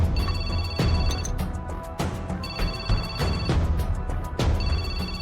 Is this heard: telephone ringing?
yes